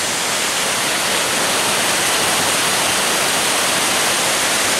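The Leivaditis waterfall in Greece roars with a constant, loud, dense rush of falling water that fills everything, with no voices.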